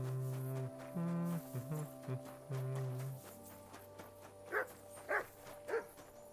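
The dog Mutt barking in a video game: several short, close barks in a row following stretches of steady in-game music tones, with no talk over them.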